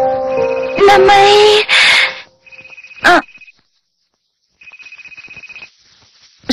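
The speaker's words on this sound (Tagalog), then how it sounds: "Sagutin mo na yung phone mo." A cellphone ringtone plays close by as a repeating electronic melody in short pulsed phrases, breaking off and starting again, with a voice and a sharp sound effect briefly overlapping near the start.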